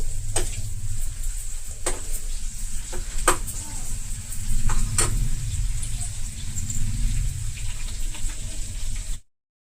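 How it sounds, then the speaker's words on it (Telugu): Onions frying in oil in a pan for a Telugu amaranth leaf sour curry, a steady close sizzle with scattered crackles and a few sharp pops, running throughout before ending abruptly. "ఇప్పుడు ఉల్లిపాయలు బాగా వేగిపోయినాయి కదా"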